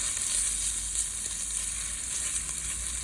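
Crushed roasted garlic seasoning being stirred in a sizzling one-pot cheesy beef taco pasta, with a steady, close frying hiss running the whole time and faint scraping underneath.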